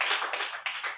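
An audience claps together in a church service, a dense, steady patter of applause from many hands that carries on without a break through the short moment.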